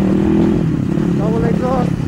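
A Honda CX250R motorcycle with a double exhaust idles and rumbles steadily close by, and someone talks over the engine throughout.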